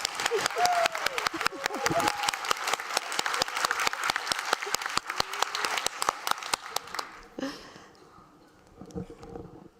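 A crowd at a learning conference's innovation arena claps loudly and steadily for about seven seconds, with sharp individual hand claps standing out, before the applause fades and a voice speaks faintly at the end.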